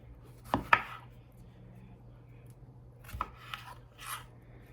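A knife cuts the core out of a ripe tomato in a kitchen, giving two or three short, soft crunching and scraping sounds separated by quiet pauses.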